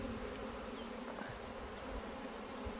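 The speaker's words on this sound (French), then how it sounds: "C'est sûrement des abeilles à nous." Honey bees from a swarm buzz in a dense, steady drone close by, a continuous insect hum with no talk over it.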